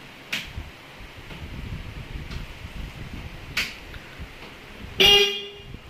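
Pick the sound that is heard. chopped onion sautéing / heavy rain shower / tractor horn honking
tractor horn honking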